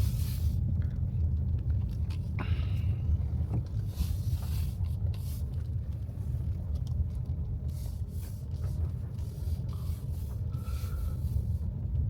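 A car driving along a village road in Lekhnivka, a steady low engine and tire rumble from inside the cabin with faint rattles and no talk.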